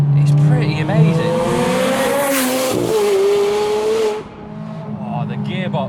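A tuned 746 bhp Novitec Ferrari 430 Scuderia accelerates hard on a public street, its engine wailing up through the revs with chirping, skipping tires, then cutting off abruptly before a quieter tail.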